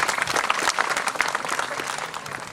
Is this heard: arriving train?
no